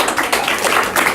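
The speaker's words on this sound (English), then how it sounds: "Little second round of applause here for the man of the hour" Applause from an audience at a county social services gathering, a steady dense wash of many hands clapping through the whole short stretch, fairly loud and close.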